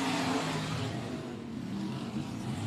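Race car engine roars steadily down the back straightaway at Barona Speedway in Lakeside, California, a loud continuous drone of revving motors with no voices over it.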